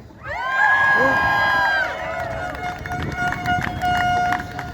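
An outdoor rally crowd in Peterborough, Ontario, cheers, whoops and shouts loudly for a performer, sustained throughout, with horn-like tones blaring over the noise.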